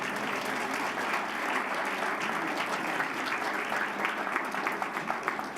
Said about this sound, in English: Let's have one last round of applause again for all of our wonderful trustees.